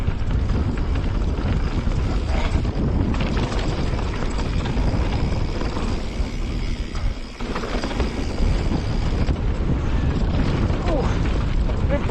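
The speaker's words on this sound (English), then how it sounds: "Oh, a bit breezy." Strong wind buffets the microphone while riding a Specialized Turbo Levo SL electric mountain bike, a loud, steady low rumble throughout with a brief dip partway before gusting back up.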